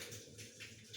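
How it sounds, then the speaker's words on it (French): Faint rushing water from a cascade at a viaduct pours steadily in the distance, a soft continuous wash with slight surges, no voices. "il y a un bruit de cascade"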